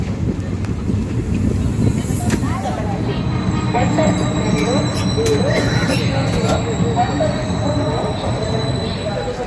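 The Hussain Sagar Express pulls out of Shahabad station, a close, steady, loud rumble of rolling rail cars with wheel squeal and clatter running unbroken throughout.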